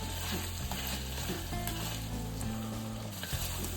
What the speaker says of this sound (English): Cook these guys for about 7 to 10 minutes or so until the shallots get a little caramelization going.